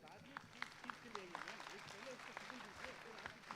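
Applause from the audience at the 26th National Youth Festival in Hubballi-Dharwad, Karnataka: scattered claps mixed with crowd voices and talk in a large hall.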